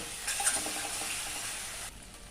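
Poppy-seed and mustard paste with turmeric sautéing in a pan for pointed gourd posto: a soft hiss of frying rises for about a second and a half and then cuts off, with no speech.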